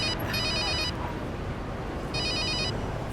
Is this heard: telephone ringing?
yes